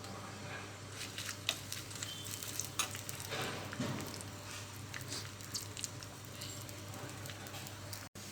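Tempering of cumin, mustard seeds, dried red chillies and garlic frying in hot oil for gongura tomato chutney, a faint continuous sizzle with small crackles and pops over a low background hum.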